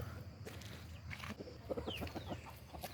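Free-roaming jungle fowl chickens forage among banana plants on a farm, giving scattered soft clucks and short calls at close range over a low outdoor background, with a brief higher chirp partway through.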